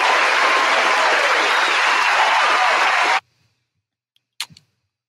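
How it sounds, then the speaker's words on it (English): Applause from an awards-show audience, a dense steady wash of clapping that stops abruptly about two-thirds through, followed by silence with a faint click and a short sound near the end. "Can we get a round of applause for Click, please?"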